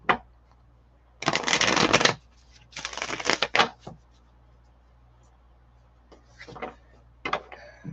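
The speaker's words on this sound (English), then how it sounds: "Candace, let me do these cards again" Tarot cards being shuffled in two loud riffling bursts, followed by softer card handling and light rustles, with no voices.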